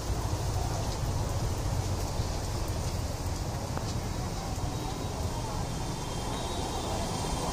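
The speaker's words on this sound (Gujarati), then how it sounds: "જોરદાર વરસાદ પડી ગયો અત્યારે." Heavy rain pouring down on a street in Rajkot, a dense steady hiss of drops on surfaces throughout, with people talking faintly underneath.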